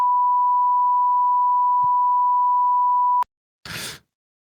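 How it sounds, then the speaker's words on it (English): A long continuous censor beep, a pure steady tone that cuts off abruptly, followed by a short burst of noise after a brief silence. "It's just one long beep."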